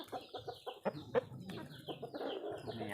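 Burmese-breed fighting chickens clucking close by on a rural farm, a run of short repeated clucks and squawks with a brief sharper call partway through, a faint murmur of voice underneath.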